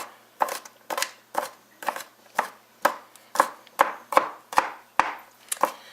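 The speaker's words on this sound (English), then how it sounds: "So I'm just going to chop this up a little bit and it's going to go in." A knife chops garlic on a cutting board in about a dozen crisp, evenly spaced strokes, close and fairly loud, with no talk over them.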